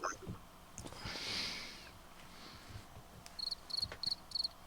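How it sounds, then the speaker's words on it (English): A cricket chirping sound effect is played from a button, giving short repeated high chirps in a quick rhythmic series near the end after a softer, hissy stretch. "I can't make the cricket sound."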